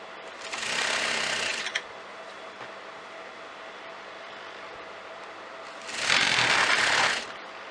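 A sewing machine stitches kameez fabric in two loud, steady bursts of rapid mechanical whirring, each lasting roughly a second, with quiet room tone between them and no talking.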